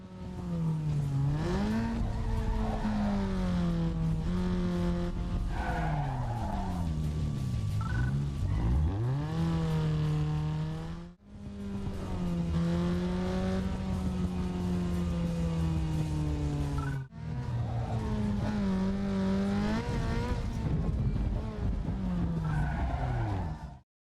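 A car engine in Need for Speed Underground 2 revs hard and changes pitch over a steady drone. Two abrupt cuts mark gear shifts, with faint tire noise throughout and no talking.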